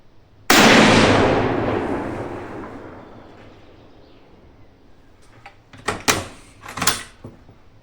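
A single loud Mauser 300s rifle shot, fired with 150-grain bullets at a 100-metre target, cracks sharply and rolls away in a long fading echo, followed by a few quick metallic clicks and knocks nearby.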